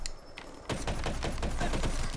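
Gorgon gun firing in Black Ops 3 gun game mode, a quiet stretch then a rapid burst of repeated shots starting partway in and continuing to the end, moderately loud.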